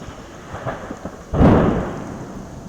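A deep rumble of thunder rolls in midway, loud and sustained, over a steady background of rain and wind during a storm.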